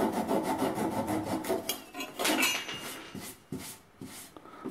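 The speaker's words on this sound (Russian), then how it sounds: "Я буду пилить вот такой ножовкой." A hand saw cuts wood flush with repeated back-and-forth strokes, a rhythmic rasping close by and fairly quiet, the strokes shortening and spacing out toward the end.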